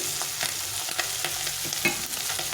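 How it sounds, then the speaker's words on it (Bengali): Small fish, including pool barb and mola, crisp up in a little oil in a pan, giving a steady close sizzle with light stirring scrapes throughout. "আমি দেখো অল্প তেলে ভাজছি"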